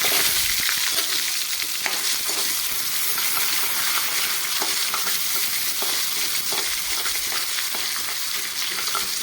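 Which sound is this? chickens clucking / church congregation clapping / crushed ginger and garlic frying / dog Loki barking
crushed ginger and garlic frying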